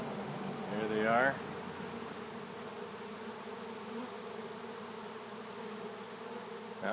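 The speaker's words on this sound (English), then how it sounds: "Now I'm right in the middle of this bee swarm." A honey bee swarm hums in a continuous, low, faint drone around the listener, swelling briefly louder for a moment near the start and then settling into a steady buzz.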